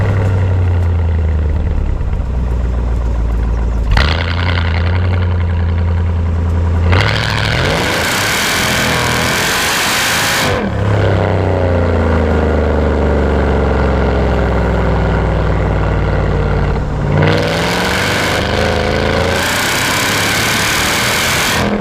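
A 2003 Mercedes E55 AMG V8 runs close by, idling with a deep rumble and then blipping through several sharp revs that swell and fall back, loud and alone with no talk.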